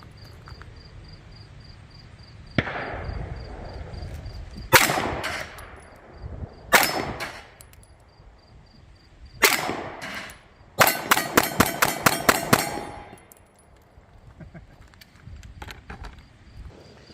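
A CZ P-07 9mm pistol fires at bowling pins from about ten yards: sharp, loud shots, first spaced singly, then a rapid string of about eight quick reports, each followed by a metallic clang of struck pins.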